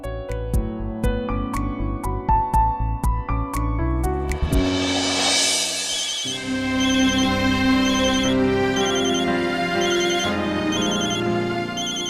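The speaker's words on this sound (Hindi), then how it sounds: "कितनी देर से मोबाइल बजे जा रहे हो है?" A mobile phone plays a melodic ringtone, a run of plucked notes giving way to a sustained electronic tune that keeps ringing loudly without voices.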